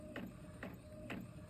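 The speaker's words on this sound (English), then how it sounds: "this is an Eco Tank by Epson 2800." An Epson EcoTank 2800 inkjet printer printing on fabric gives off quiet, regularly spaced mechanical strokes, about four in under two seconds, over a faint steady hum.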